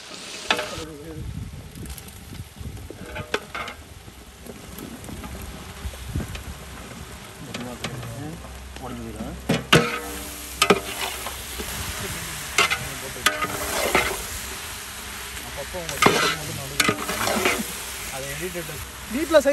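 Tender boiled jackfruit pieces go into a pan of sizzling tomato masala for a village-style veg biryani, bringing steady frying hiss and stirring scrapes that grow louder partway through, with a voice talking over the cooking.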